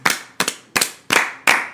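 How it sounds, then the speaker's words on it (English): A few podcast hosts give a short round of applause, five distinct sharp clap bursts in quick succession, close and loud with no talking between them. "Let's get a round of applause."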